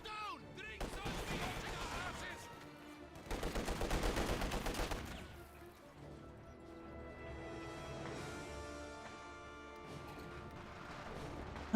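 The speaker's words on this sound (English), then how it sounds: "Guards flank the MG42." An MG42 machine gun and other weapons firing in the World War II game Company of Heroes 2, loud rattling bursts and sharp shots that peak in a dense volley, then fade into quieter battle noise with talk mixed in.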